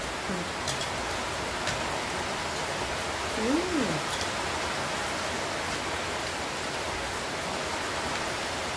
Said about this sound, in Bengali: বৃষ্টির আওয়াজ শুনতে পাচ্ছ?